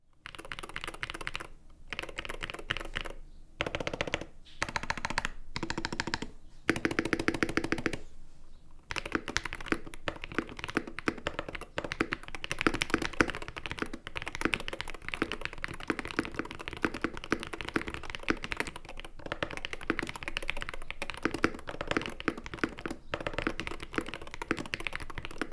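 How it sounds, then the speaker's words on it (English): A Wooting 60HE keyboard with regular PBT keycaps clatters under fast, steady typing, close and crisp. A few short bursts with pauses come first, then a long continuous run of keystrokes. "let's start with the sound test of my Wooting with the regular PBT keycaps"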